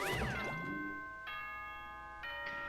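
Danganronpa 2 video game announcement chime: a brief rising synth flourish followed by two clear, bell-like electronic dings, each ringing and slowly decaying, fairly quiet with no voices.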